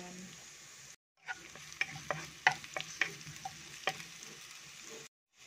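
Chopped onion stirred and frying in a hot pan, with crackling sizzle and several sharp scrapes of the utensil over a steady hiss, close up, with no talking, before a cut to silence.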